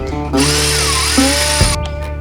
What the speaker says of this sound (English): Take that bolt out.